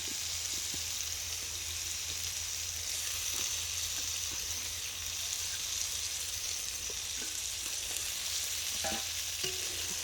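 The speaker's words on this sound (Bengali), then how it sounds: "ভালোভাবে নেড়ে নেবো" Fried fish stirred into a turmeric and chili spice masala in a pan, a steady soft sizzle with occasional scraping stir sounds throughout, no talk.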